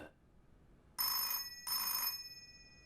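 An office telephone rings in two bright electronic bursts, each about half a second long with a short gap between them, loud and close against a quiet room.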